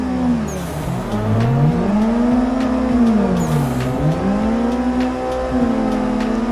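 Cars drifting on a track in the racing game Assetto Corsa, with engine tones that climb and fall in long continuous sweeps as the cars slide through corners. Loud and steady, with no talking.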